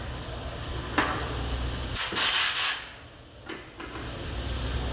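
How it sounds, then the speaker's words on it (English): A short, loud hiss of compressed air blowing metal chips off a machined plate bursts out for under a second, with fainter puffs and light scraping around it. "So I'll spray the chips off with air."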